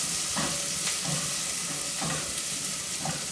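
Onions frying in a pan for enchiladas, a dense steady hiss of sizzling oil with soft periodic stirring swishes, close and loud.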